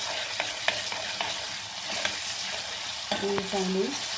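Ginger-garlic paste and onions sautéing in a pan for egg curry: a continuous sizzle with stirring scrapes and light clinks of a spoon, close and alone.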